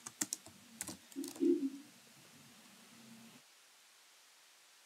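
Short bursts of typing on a computer keyboard while entering a MATLAB formula, a few sharp clicks at the start then a softer patter of keys, close and quiet with a lone click at the end.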